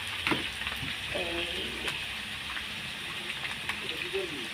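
Spice paste of ground cumin, ginger and green chilli frying in a pan with a splash of water, giving a steady broadband sizzle with occasional stirring scrapes, while a voice talks faintly underneath.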